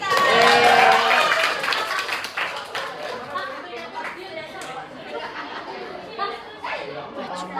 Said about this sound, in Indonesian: kasih tepuk tangan dulu ke Sagita.